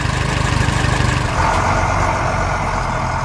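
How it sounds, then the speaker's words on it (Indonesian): A blue tractor's engine drives over rocky ground in a cartoon scene, rumbling low with a steady chugging pulse that smooths into a continuous drone. "Traktor biru melintas di tengah tanah berbatu."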